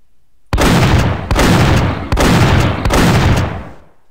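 Four loud, close shotgun blasts from a zombie video game fire in a steady rhythm about 0.8 seconds apart, each a sharp boom with a short decaying tail, and no voices are present.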